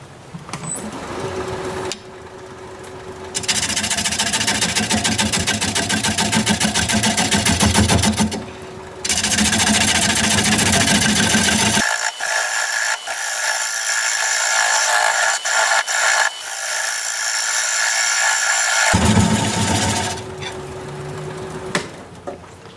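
A wood lathe spins a maple bowl at 422 RPM, giving a steady, close, whirring and scraping drone that runs for long stretches, broken by short pauses and one longer dip.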